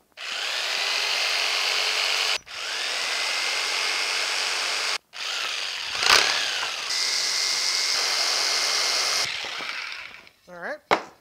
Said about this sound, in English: I think I'm gonna use a jigsaw on this one